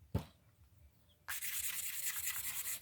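Carnelian or smoky quartz stone rubbed against a worn sheet of sandpaper, one brief scrape followed by steady, continuous gritty sanding strokes, close and fairly quiet, with no talking.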